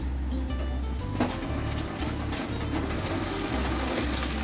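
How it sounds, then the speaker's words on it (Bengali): Malabar spinach (puishak) going into a hot pan with small shrimp, giving a steady loud sizzle with low, even cooking noise and scraping or clicking pan sounds throughout. "এখন আমি পুঁইশাকগুলো দিয়ে দিব"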